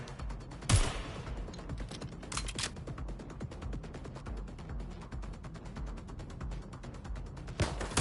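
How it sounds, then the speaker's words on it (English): Gunfire from a target in Watch Dogs Legion: rapid, mechanical bursts of shots crackle continuously, with a few louder, sharper blasts standing out near the start and end. "Target is firing!"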